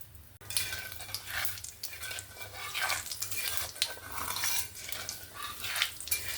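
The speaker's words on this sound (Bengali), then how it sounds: "এবার ফোড়নে দিয়ে দেব পাঁচ ফোড়ন" Panch phoron, a Bengali five-spice tempering, frying in hot oil in a kadai, with a steady soft sizzle and occasional metal scrapes of a spoon, fairly quiet and without talk.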